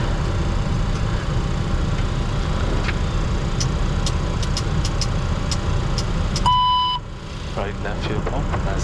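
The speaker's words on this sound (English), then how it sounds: "Good start on the right engine" Right engine of a Challenger 604 business jet running steadily on start-up, a constant broadband roar with a cockpit beep partway through, while crew voices talk over it.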